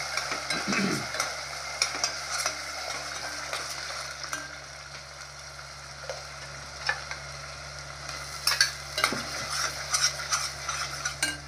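A ground onion, coconut and garlic masala paste for mutton sukha is roasted in a pan, sizzling steadily while a spoon scrapes and stirs against the metal in intermittent clinks and scuffs.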